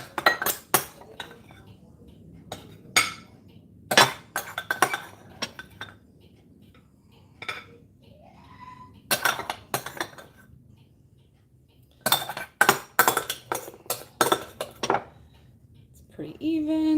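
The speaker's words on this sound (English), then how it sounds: "give each of them some rice just on their plate" Metal serving utensils clink and scrape against plates while rice is dished out for a Hello Fresh meal kit dinner, coming in sharp intermittent clusters with a quiet voice between them.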